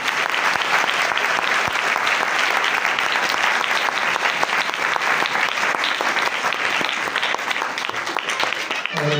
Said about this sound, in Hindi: सब के लिए तरफ जोरदार ताली